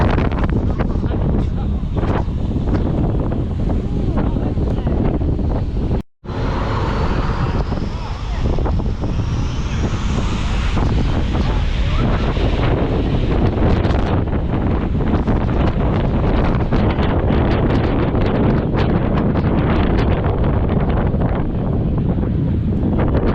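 Jet blast from an airplane at Skiathos airport roars as a steady, loud, wind-like rush that buffets the microphone continuously, with one brief dropout early on.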